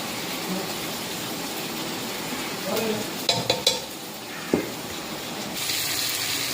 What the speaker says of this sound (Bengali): চিকেনটা প্রায় কষানো হয়ে গেছে